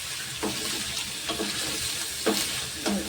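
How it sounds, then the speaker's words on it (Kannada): Paneer frying in hot oil in a home kitchen for a paneer gravy, a continuous close hiss and crackle with periodic stirring scrapes. "ಈ ರೀತಿ ಇದನ್ನು ನೀಟಾಗಿ ಎಣ್ಣೆ ಒಳಗೆ ಈ ರೀತಿ ಫ್ರೈ ಮಾಡ್ಕೊಳ್ಳೋದು."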